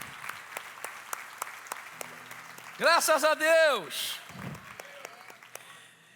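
A church congregation applauding during a worship service, with sparse, scattered claps across the room. A voice speaks and calls out over the clapping partway through.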